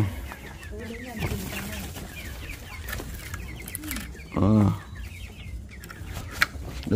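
Chickens clucking in a farm pen, repeated clucks and short calls scattered throughout with one louder squawk midway, while people talk nearby.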